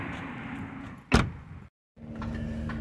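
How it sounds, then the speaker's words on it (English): A car door slams shut with one sharp, close thud, followed by a brief silence before the muffled hum of the car interior returns. "Oh, you want to shut the door?"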